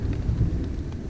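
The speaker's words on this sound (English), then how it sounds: "we're here and it's raining. It's coming down." Steady rain pours down on a kayak fishing trip on the Devils River, a dense low hiss and patter with a rumbling undertone, continuous and close, no voices.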